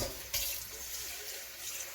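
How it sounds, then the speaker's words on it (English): Kitchen tap running while seaweed soup is being made, a steady, faint hiss of flowing water with a brief louder splash near the start. "I just use water from the tap because soil water is considered clean enough."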